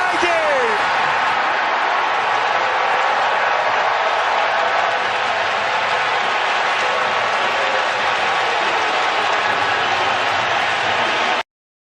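A large baseball crowd erupts for a Yankees hit in a wild card game, a loud, sustained roar of cheering and applause that holds without letup for about eleven seconds before cutting off abruptly.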